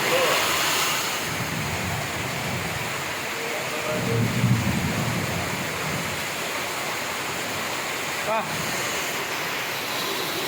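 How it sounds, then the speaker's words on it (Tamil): Dense, steady roar of heavy rain in Cheyyar, India, fills the whole clip, with a low rumble of thunder partway through and a sharp crack near the end. "செய்யாறின் பலத்த மழை."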